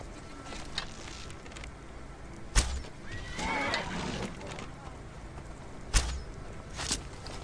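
A horse in the video game Skyrim whinnies over a steady game ambience, with a few sharp hoof clops and impacts scattered before and after the neigh.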